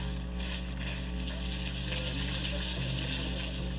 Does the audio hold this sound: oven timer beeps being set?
no